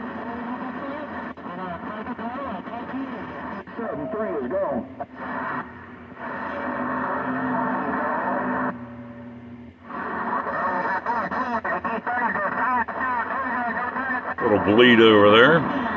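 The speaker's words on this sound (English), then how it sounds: "Let's do a spin around the band with the ham radio." A Yaesu FT-990 ham radio receiver sweeps across a band, giving a steady wash of static and noise that warbles and shifts through changing tones and snatches of signal for the whole stretch.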